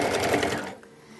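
A sewing machine with a walking foot stitches cloth for a baby burp cloth, running as a steady, loud buzzing whir for most of a second before cutting out into quiet room tone.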